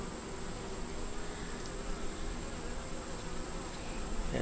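Honey bees drone in a steady, dense buzz around a small nucleus hive with a torn screen, the hum continuous and close with no breaks or voices.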